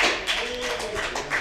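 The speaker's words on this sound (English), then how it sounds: "Give a round of applause for more audience." Comedy club audience applauding at a stand-up show, a dense, steady wash of many hands clapping with no single claps standing out.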